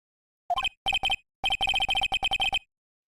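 A cell phone ringtone from the video game Phoenix Wright: Ace Attorney chirps in quick electronic bursts, one short pair then a longer rapid run of identical beeps, clean and alone.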